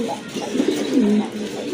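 A male fancy pigeon coos close by in a short, low, throaty burst with a couple of rolling pulses, and no talk over it.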